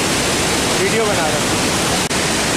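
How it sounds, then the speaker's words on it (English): Dassam waterfall in Jharkhand, a loud, continuous roar of crashing and splashing water that fills everything up close, while someone speaks briefly over it. "the splashes of the water are coming in here"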